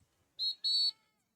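A referee's whistle stops play during a Canadian junior football game, giving two shrill blasts: a short one, then a longer sustained one. Both sound slightly distant and fairly quiet.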